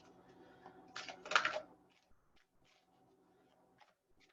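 Soft papery riffling and slapping of tarot cards being shuffled, a couple of louder bursts near the start, then quieter handling with a faint background hum.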